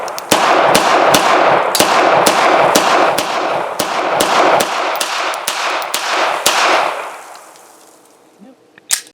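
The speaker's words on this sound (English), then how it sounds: "he had picked up an M9A3, so I do have some shooting footage from that range trip" Beretta M9A3 pistol fired at a shooting range: a fast string of sharp, loud shots at steady pace for about seven seconds, then a brief lull and one final isolated shot.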